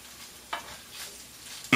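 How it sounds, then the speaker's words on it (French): Crumbled tuna frying in a pan over medium heat, a soft low sizzle broken by a couple of brief stirring scrapes, the last one louder near the end. "vous allez faire revenir le thon pendant environ 2 minutes, hein, à feu moyen"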